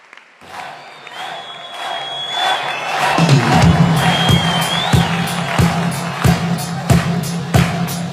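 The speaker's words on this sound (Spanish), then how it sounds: "Fuerte aplauso para ellos." A sports-hall crowd at a mixed handball all-star event cheers and applauds as players for a seven-metre throw contest are introduced, with rising cheers, a loud whistle-like tone and rhythmic thumping claps or bangs repeating at regular intervals.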